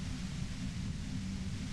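Radio static hiss in a video game, a steady broadband noise rumbling low and constant throughout, with no voices over it.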